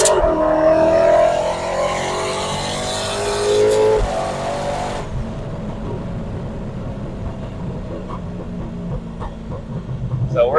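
A 1300hp turbocharged Corvette with a TH400 transmission revs up and accelerates, loud and close, then settles into a steady rumble with a voice talking over it.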